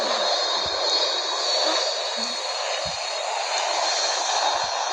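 A steady broadband roar of an airplane engine in the Roblox Brookhaven video game, constant and fairly loud throughout, with a few faint low thumps underneath and no talking.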